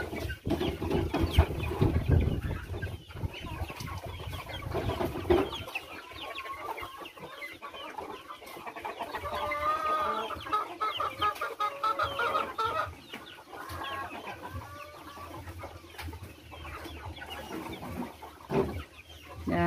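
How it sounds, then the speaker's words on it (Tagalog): Backyard chickens and chicks clucking and chirping at feeding time on a farm where pigs are also kept, a steady busy flock chorus close by with occasional louder bursts, no talking. "pinakain na yung mga alaga nating manok, saka yung mga sisiw at saka baboy"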